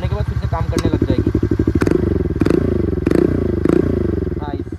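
A TVS Ntorq 125 scooter has an aftermarket valvetronic exhaust with the valve shut. It idles nearby in a fast, even putter, with several sharp clattering thumps spaced through it and a person talking briefly over the engine.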